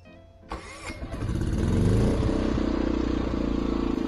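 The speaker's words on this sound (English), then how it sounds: "Now it says slide to start engine." An EcoFlow Smart Generator engine cranks and catches after an app-triggered start, then settles into a loud, steady running drone close by.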